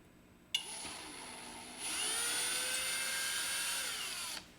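Screws on the bridge of a vintage Kramer 450-B aluminum-neck bass spun fast by a power driver, a close whirring whine that starts abruptly, rises in pitch midway and cuts off after about four seconds.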